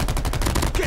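Rapid gunfire in Call of Duty Mobile, a quick burst of close, loud shots in a steady rhythm lasting under a second.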